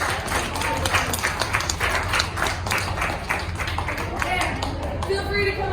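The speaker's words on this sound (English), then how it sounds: "Let's all give Ryan a big round of applause for feeding our fish." Audience applause at an aquarium diver show, a steady wash of many hands clapping continuously for several seconds in an indoor venue, with a few brief voices mixed in.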